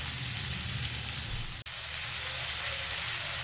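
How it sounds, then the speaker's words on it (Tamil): Onions sauté in oil in a pan with a dense, steady close-up sizzle that briefly cuts out for an instant before resuming at the same level. "இது இப்போ நல்லா வதங்கட்டும்."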